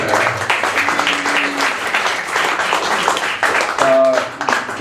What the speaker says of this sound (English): And just a round of applause for our moderator, Steve Feldman.